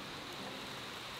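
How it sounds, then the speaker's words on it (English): Steady rain falling outdoors, a dense, even hiss with no distinct drops or gaps, filling the short stretch without any voices. "now it's raining"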